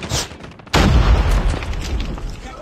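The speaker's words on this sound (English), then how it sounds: "Grenade out!" In the Call of Duty Mobile game, a grenade goes off with one loud, deep boom that cuts in after a brief quiet moment and then rolls on as a heavy, rumbling roar.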